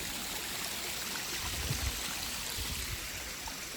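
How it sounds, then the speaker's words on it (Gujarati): A small waterfall pours from above, heard as a steady, soft rushing wash of water at moderate distance with faint low rumbles, no talk. "પાણી ઉપરથી પડે છે."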